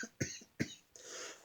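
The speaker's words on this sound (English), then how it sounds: "Sorry about that coughing fit." A person has a brief coughing fit: two sharp, close coughs followed by a rougher, drawn-out cough, all fairly quiet.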